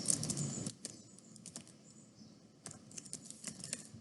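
Typing on a computer keyboard while entering code for acetone and methanol calculations: quiet, irregular bursts of key clicks with short pauses, close and soft, without talking.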